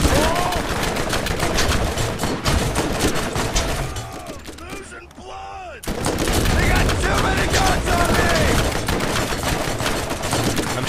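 Rapid video game gunfire from enemy fights in Borderlands, with dense bursts of shots and weapon effects crowding the mix nearly throughout, a brief quieter dip midway, then loud continuous shooting again; a player talks over it.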